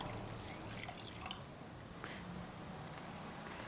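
Water is poured over korma to wash it, making faint splashing, dripping and squishing sounds that are soft and close, with no talking.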